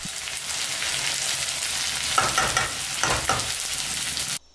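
Tomato and grated ginger frying in oil with chopped vegetables for a Karnataka-style khara bath upma: a steady, close sizzle with a few stirring scrapes in the middle, ending abruptly.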